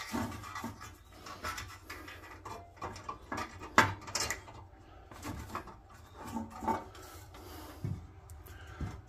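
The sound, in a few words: filing with a 3/16 chainsaw file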